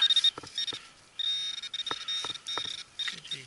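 A Garrett AT Pro metal detector signalling a quarter in a small park, giving several high steady electronic tones in short bursts and longer sustained stretches, with faint clicks between them.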